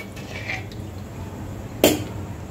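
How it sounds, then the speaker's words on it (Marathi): Shengole curry in a pot with salted water added, stirred by spoon: a low steady background with one sharp metallic clank against the pot near the end. "एकदा छान हलवून घ्यायचं आहे"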